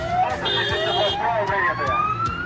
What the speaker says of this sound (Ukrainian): Автоколона вривається із сиренами та проблисковими маячками.